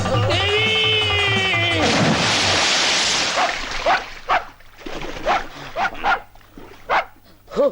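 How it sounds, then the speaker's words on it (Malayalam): A dog barks repeatedly in short sharp bursts after a loud, noisy opening, with the barks spaced irregularly and fairly close, in a Malayalam comedy film scene. "പട്ടിയായിരുന്നു."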